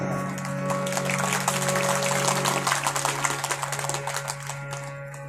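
An audience claps during a Hindu religious discourse on the Ramayana in a hall, a dense sustained roar of many hands over a droning background tone that grows more scattered toward the end.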